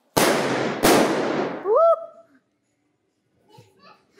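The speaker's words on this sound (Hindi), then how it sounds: "और बाकी अब ये लोग फोड़ रहे हैं पटाखे" Two sharp, loud firecracker bangs go off in quick succession at a Diwali celebration, followed by fizzing and faint voices and laughter afterward.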